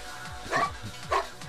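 Dog barking in the video game GTA V, two loud single barks spaced about half a second apart over a steady low game hum.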